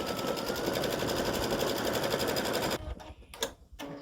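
Embroidery machine stitching text lettering, a steady loud rapid mechanical chatter for nearly three seconds before it stops, leaving a few scattered clicks and knocks.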